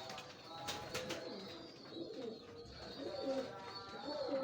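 Pigeons coo softly nearby in repeated low rolling calls, with a few sharper clicks early on, faint overall and without talk over them.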